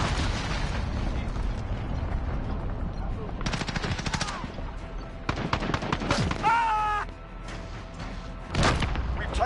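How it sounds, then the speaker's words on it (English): A cruise missile strike in the video game Call of Duty lands amid a loud, continuous firefight: dense rattling gunfire, sharp booms and bursts of explosions over nearly ten seconds, with a brief whistling tone partway through. "Enemy cruise missile incoming."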